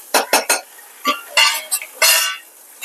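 A metal pot lid lifted and handled over a pan of paneer butter masala, giving several sharp clinks and scrapes spread across a few seconds, close and fairly loud with no talk.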